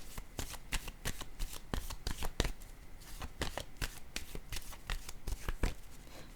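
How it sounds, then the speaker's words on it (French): Playing cards from a deck riffle and snap in quick crisp bursts, close and fairly quiet, a card being drawn and handled with no talking. "je vais piger une autre carte"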